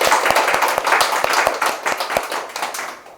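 Audience applause in a Korean lecture hall, a burst of steady hand clapping that holds for about three seconds, close and fairly loud, then thins out and fades toward the end.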